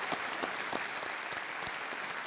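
Studio audience of the KBC season 7 quiz show applauding to welcome three contestants, a steady, fairly even wash of clapping filling the whole stretch without speech.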